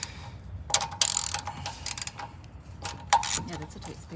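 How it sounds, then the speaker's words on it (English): A ratchet turns bolts on the carburetor of a Firman generator in a tight space, making clustered metallic clicks in short bursts with some handling clatter and faint voices nearby. "These can sometimes be a little tricky to get to, depending on how big of a ratchet you use."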